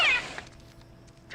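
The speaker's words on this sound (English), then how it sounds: "Look at this little kitty." A cat meows once in a horror film scene, a bright, fairly close cry at the very start, followed by quieter background and a faint chirp near the end.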